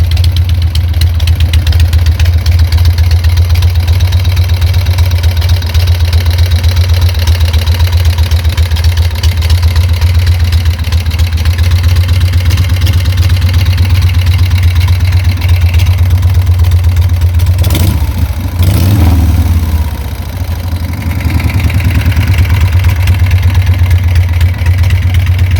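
A Harley-Davidson motorcycle engine fitted with hydraulic lifters idles steadily with a low rumble and a faint ticking, briefly dipping and shifting near the end before settling back.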